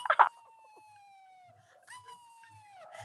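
Long drawn-out howls imitating wolves, rising then slowly falling, loud and close in a coffee shop, with a short burst of laughter or chatter at the start.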